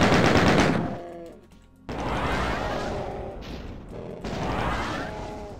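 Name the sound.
plasma gun and chain gun firing in video game Doom 2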